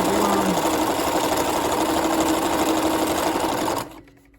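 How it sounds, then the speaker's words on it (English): A sewing machine runs a continuous straight stitch on fabric for a Valentine heart project, a steady loud mechanical whir with rapid needle rhythm that cuts off abruptly near the end. "I'm just doing a straight stitch on it."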